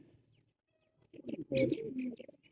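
A male pigeon gives a short burst of low cooing after a near-silent pause, close and fairly faint, with small chirps around it.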